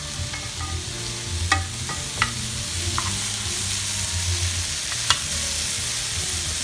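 Onion and peppers sizzle in a pan with a steady crackle, punctuated by a few sharp stirring clicks and scrapes, close up and with no talking.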